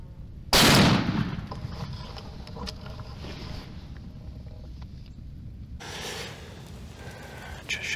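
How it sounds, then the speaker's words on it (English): A single loud gunshot fired by a deer hunter from a blind, a sharp blast near the start followed by a long fading echo over quiet outdoor ambience. "Just shot me a little buck."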